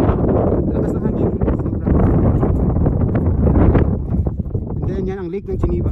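Steady wind buffeting a microphone on Col de la Faucille mountain in the Jura, Switzerland, a loud broad rush that fills the whole clip while a voice speaks over it.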